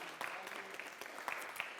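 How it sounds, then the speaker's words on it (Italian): Quiet audience applause at a Neapolitan talent show evening, scattered individual claps standing out from a soft, steady patter over a brief stretch. "E adesso un grande applauso a tutti e tutti."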